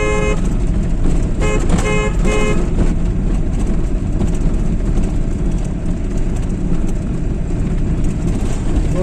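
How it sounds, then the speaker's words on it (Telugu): A car horn honks in several short bursts during the first few seconds, loud and close, over a steady rumble of engine and road noise inside a driving-school car. "హారన్ బాగుంటుంది"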